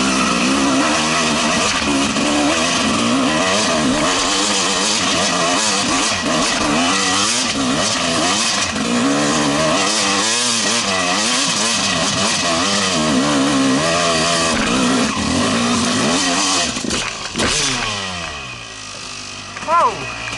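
Yamaha YZ 250 dirt bike climbing a muddy hill, its two-stroke engine revving hard and rising in pitch throughout, loud and close, then easing off near the end.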